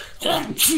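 One sharp human sneeze bursts out close and loud during a casual livestream, with a voice around it.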